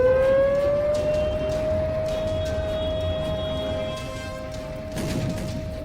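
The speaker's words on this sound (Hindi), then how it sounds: "एयर स्ट्राइक के सायरन कभी भी गूंज सकते हैं।" A civil-defense air raid siren holds a long, steady wail that rises slightly at the start, then sustains loudly over a rumbling background with faint distant knocks.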